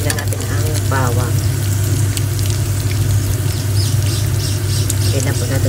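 Meat sizzles loudly and steadily in hot cooking oil for a bitter gourd (ampalaya) dish, a dense continuous frying crackle filling the whole moment, with a voice speaking briefly over it.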